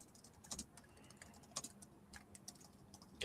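Keys tapping on a computer keyboard, a quiet irregular patter of clicks with a few sharper strokes and a louder clack at the end, no voices.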